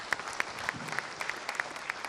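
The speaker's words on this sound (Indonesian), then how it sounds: "Kita berikan tepuk tangan terlebih dahulu." Studio audience applauding at a televised national dialogue show, a steady patter of many hands clapping with sharp individual claps standing out, moderately loud and continuous for a couple of seconds, with no talk over it.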